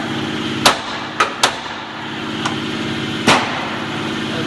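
A hammer strikes the outer tie rod end several times, sharp metallic smacks spaced irregularly, close and loud over a steady engine-like background drone.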